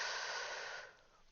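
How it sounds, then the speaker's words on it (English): A long, breathy exhale of a deep breath, close and soft, fading out after about a second into near silence. "Tony now takes some deep breaths"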